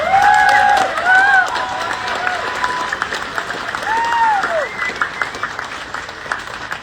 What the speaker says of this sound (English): let's give our instructors a big round of applause.